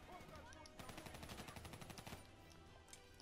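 Rapid gunfire from Black Ops 3 campaign play, a burst of closely spaced shots lasting over a second at moderate loudness, set against a steady game background with a voice nearby.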